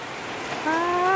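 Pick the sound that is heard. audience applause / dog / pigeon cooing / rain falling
rain falling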